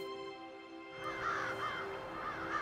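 A crow caws repeatedly in a quick, rhythmic series of harsh calls, clear and fairly close against a faint background with a steady tonal hum.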